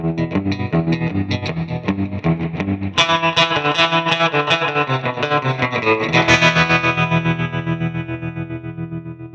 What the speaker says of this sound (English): I want to add a little more dramatic tremolo to the end of that